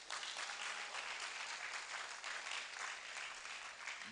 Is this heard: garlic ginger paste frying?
no